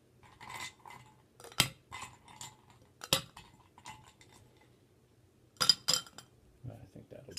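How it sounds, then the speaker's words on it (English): Ice clinks into a rum punch glass for a Jefferson arrack rum punch, a few sharp, close clinks and rattles with quiet gaps between them and a final cluster near the end. "Put some ice in it."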